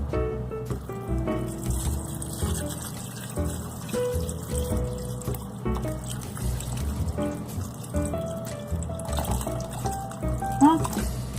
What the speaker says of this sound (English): And then I'm going to add some water to it.